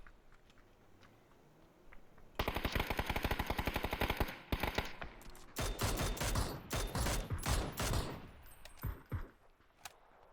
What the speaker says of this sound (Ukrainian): там сразу 8 людей стріляє